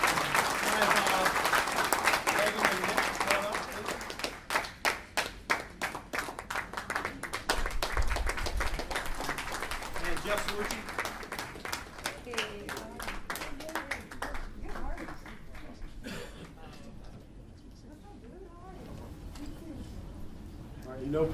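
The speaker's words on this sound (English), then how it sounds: "Give him a round of applause" An audience at a live business opportunity presentation applauds Bob Jr. with a burst of sharp, close claps that gradually thin and fade while a speaker talks over the room.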